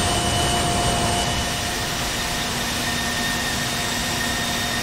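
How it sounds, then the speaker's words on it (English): Embraer ERJ-190 jet engines in Microsoft Flight Simulator 2020, a loud steady broadband roar with faint tonal whines, constant throughout with no talk. "Noisy goddamn fucking plane."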